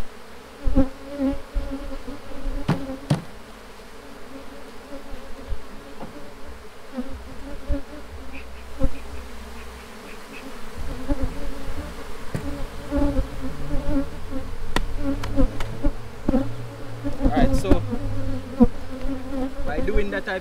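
A dense, steady buzzing of many honeybees being shaken into a shaker box fills the whole stretch, close and constant, with occasional louder swells as bees move nearby.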